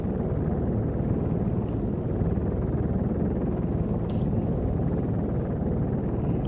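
A helicopter in the video game Arma 3 flies steadily, its loud, continuous rotor and engine drone filling the whole stretch without pause; no one speaks.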